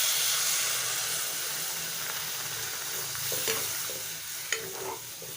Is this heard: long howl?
no